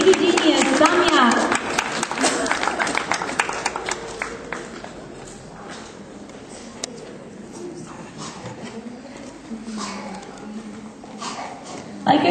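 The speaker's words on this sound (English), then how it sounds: "Give a huge round of applause for our little brother from Baby Genius, Samyak." Audience applause at a children's word-competition prize giving, a loud burst of clapping at first that thins out into scattered claps, with a brief voice and a high tonal sound over the top.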